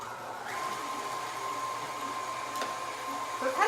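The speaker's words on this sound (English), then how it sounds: "I'm going to put the meat into the grinder and see how it comes out" A KitchenAid meat grinder attachment runs at a steady whine while it grinds meat, with a faint continuous motor hum and a brief clatter near the end.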